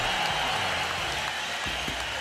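A boxing arena crowd rises to its feet, applauding and cheering in a dense, loud, continuous wash of claps and crowd noise.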